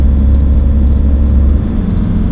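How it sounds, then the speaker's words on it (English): A car pulls out and overtakes a campervan on a wet, windy Welsh road, its engine a steady, loud, close rumble with road noise that eases slightly near the end. "Just having to let that car out"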